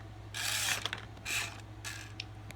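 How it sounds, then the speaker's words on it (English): Toy robot truck Rocky's electric motor whirring in three loud bursts with short pauses between, a ratcheting mechanical buzz close by, with no talking. "he kind of scoots along because he has so much power behind that motor"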